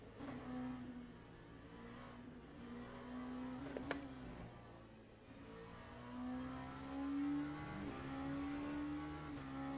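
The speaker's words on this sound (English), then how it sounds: "This car's really loud, I think." A racing car engine in the video game Le Mans Ultimate, during a team endurance race at Silverstone, drones steadily at mid-volume. Its pitch rises and falls through gear changes, with a short sharp burst near the middle and no voices.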